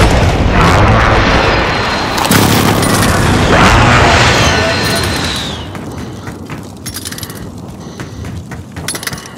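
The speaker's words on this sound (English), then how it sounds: "Throwing grenades." Grenade explosions in the Resurgence video game, loud heavy booms and bursts with sharp debris-like crackles, then a quieter stretch of scattered rattles and clicks.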